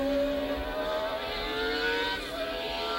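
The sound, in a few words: 1982 Brabham Formula 1 car engine on track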